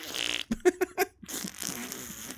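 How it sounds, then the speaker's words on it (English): A woman's sputtering comedic fart, several rapid bursts in a quick stuttering run, close and clear, with a sustained hiss of room noise before and after. "She can't stop farting from it."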